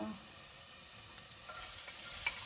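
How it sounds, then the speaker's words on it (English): Bacon frying in hot oil, a steady hiss and crackle, a soft continuous sizzle with occasional pops. "When your food goes in and it sizzles, you've literally started the cooking process straight away."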